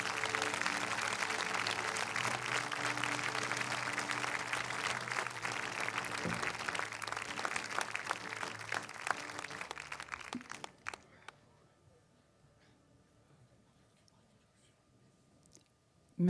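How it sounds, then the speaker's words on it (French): An audience applauds the film director Régis Froissart at a screening of "En attendant Bojangles", a dense sustained clapping that fills the room for about ten seconds, then cuts off abruptly into near silence. "je vous demande d'applaudir le réalisateur Régis Froissart"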